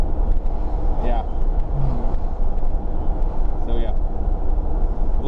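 A car driving, heard from inside the cabin: a steady low rumble of road and engine noise runs throughout, with someone talking over it.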